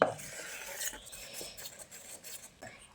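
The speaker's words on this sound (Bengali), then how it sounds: "এইভাবে দেখুন মিশিয়ে নিতে হবে" A spoon stirs eggless semolina sponge cake batter in a bowl, giving close, soft scraping and swishing strokes with light clinks against the bowl, steady and alone without talk.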